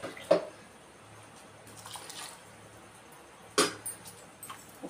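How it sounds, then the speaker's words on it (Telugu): Flattened rice (poha) washed with water in a bowl in a home kitchen, heard as faint, close sloshes and splashes in two short bursts, with quiet stirring between them. "వాటర్ వేసుకుని కడిగేద్దాం."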